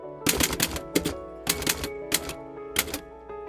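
A typewriter clatters in a repair shop, with bursts of sharp mechanical key strikes in quick irregular clusters separated by short pauses, close and fairly loud, with no one talking.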